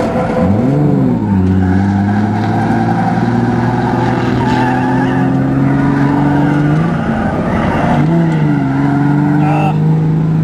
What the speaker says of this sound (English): I'm trying to drift.